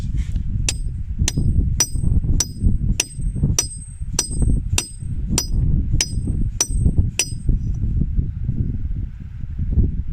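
A hammer strikes a steel chisel wedged into rock while digging out a large fossil ammonite outdoors: about a dozen sharp metallic clangs in a steady rhythm, close and loud over a rumbling wind-buffeted background.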